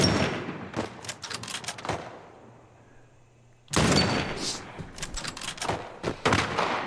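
Bursts of gunfire in The Last of Us Remake, loud sharp shots in irregular clusters, a quieter lull with a low hum, then a heavy renewed volley of rapid shots.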